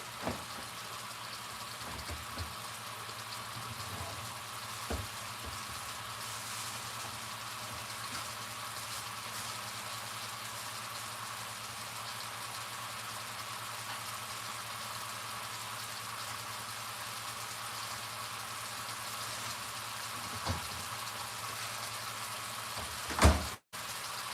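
Steak sauce simmering and thickening in a pan, a steady soft bubbling hiss with a few faint clinks, running continuously and alone until a sharp knock at the end.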